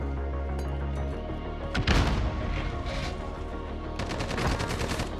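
Gunfire in a Call of Duty Modern Warfare 2v2 match, with a sharp nearby burst of shots followed by further rapid volleys, over a steady hum of game background.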